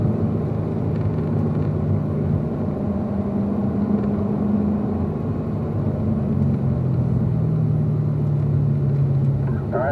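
A Corvette engine drones steadily on a race track, a loud, sustained rumble with pitch rising and settling as it works through the gears, heard from inside the car.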